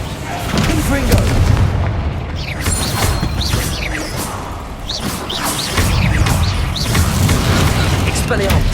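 Spell combat in Hogwarts Legacy, with a Confringo blast among dense, loud booms, crackles and whooshing magical effects that continue throughout, close and busy, with voices mixed in.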